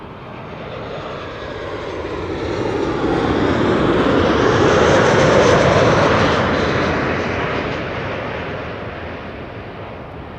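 A Tarom Boeing 737-800 jet arriving from Bucharest at Amsterdam Schiphol roars past close by, its engine noise swelling to a broad rushing peak around midway and then fading, with no talk over it.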